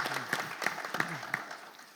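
Thin applause for the organizers at a conference forum: a few evenly spaced, distinct claps stand out over quieter scattered clapping in a large room.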